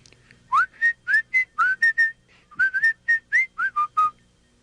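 A person whistles a short, bouncy tune close up, with clear rising notes in two quick phrases and no talking.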